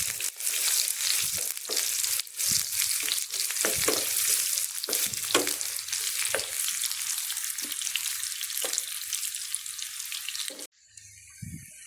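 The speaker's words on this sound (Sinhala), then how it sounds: "රට ලුණු සාමාන්‍ය ප්‍රමාණයේ ගෙඩියක් සිහින්ව කපාගෙන තෙල් එකට එකතු කරගන්නවා." Finely chopped onion fries in hot oil for tempering dhal curry, giving a steady crackling sizzle broken by scattered scrapes and pops from stirring. The sizzle drops abruptly near the end and is followed by a short muffled thump, with no talking.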